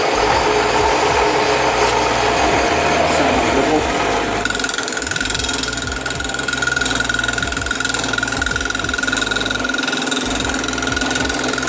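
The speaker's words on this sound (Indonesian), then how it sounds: "Nah, ini namanya mesin bobot. Ini fungsinya untuk mengupas ini tadi." A bamboo peeling machine, the mesin bobot, runs loud and continuous with a rattling, ratcheting mechanical churn and a steady whine that shifts slightly midway. No voices.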